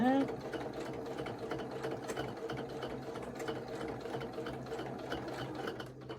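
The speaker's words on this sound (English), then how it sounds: "We'll just sew right over this way" Running steadily and close by, a sewing machine sews a holiday ornament with an even, continuous whir. The sound holds without break for about six seconds and a voice speaks briefly at the start.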